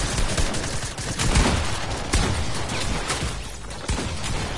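Dense bursts of gunfire from the Fortnite video game, loud rapid volleys and sharp cracks overlapping continuously with no clear pauses.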